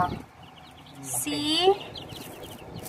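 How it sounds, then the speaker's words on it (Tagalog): White Leghorn and Sasso chickens and chicks clucking and calling on a farm, a burst of high chirps and clucks around the middle, with a low murmur of background voices. "ang laki ng sisiw ng White Leghorn and Sasso."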